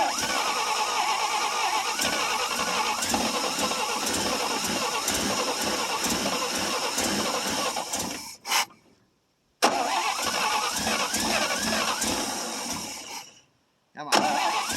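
A 1957 International S120 4x4 pickup that has sat for four years cranks loudly and steadily with its starter for about eight seconds, pauses, then cranks again in another long burst, with a voice faintly heard.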